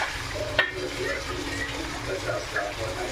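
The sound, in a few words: liver frying with masala paste in a pan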